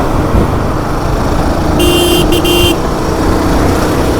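A Royal Enfield Himalayan 450 motorcycle in fifth gear accelerates to overtake, giving a steady, close road-and-wind roar, with a short horn toot from traffic midway.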